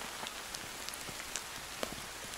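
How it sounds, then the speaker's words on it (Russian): Rain beginning to fall outdoors beside a hidden campfire in Siberia, a steady soft hiss of drops on surfaces with scattered sharper individual drop ticks, no talking. "Вот и дождичек пошел."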